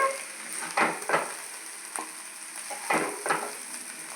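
Egg fried rice frying in a hot pan while a spatula stirs and scrapes it, a steady sizzle broken by several sharp stirring scrapes at an uneven rhythm, close and clear.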